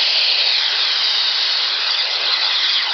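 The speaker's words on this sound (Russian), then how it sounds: "Вот октопус встал на фрифлоу." The octopus of a Beuchat 200 scuba regulator free-flows during a cold-water test, releasing a loud, unbroken rush of hissing air at a constant level, with no voices.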